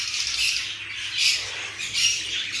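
Black lovebirds give repeated harsh, high squawks in close, loud bursts, one pair feeding each other.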